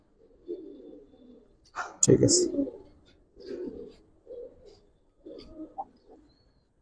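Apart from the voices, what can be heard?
pigeons cooing, Giribaz pigeons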